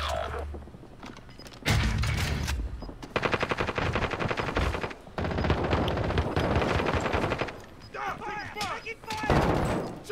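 Rapid automatic gunfire in Call of Duty: Warzone blasts in loud repeated bursts separated by short pauses, with close, heavy shots.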